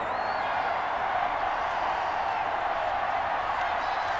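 Steady crowd noise of a home stadium audience applauding and cheering in an NFL football video game, Giants at Washington, a dense continuous wash of clapping and murmur with no pauses, broadband and even throughout.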